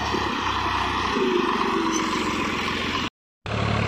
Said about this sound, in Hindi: माशाल्लाह शोर होता हुआ बहुत ट्रैक्टर में बैठा हुआ ये चल रहा है अमीरुल्लाह भाई